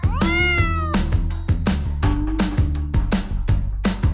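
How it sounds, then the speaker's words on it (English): A cat meows loudly and close, one rising call over a bouncy musical backing with a steady beat, no talking. "C is for cat."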